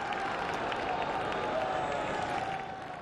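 A vast crowd of some 200,000 faithful cheers the Pope in St. Peter's Square at his inauguration ceremony, a steady, dense roar of voices and scattered applause that holds without a break throughout.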